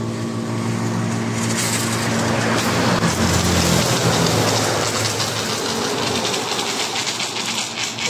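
A coin-operated car wash vending machine blasts a strong, loud, continuous water spray that hisses and roars for several seconds over a low mechanical hum.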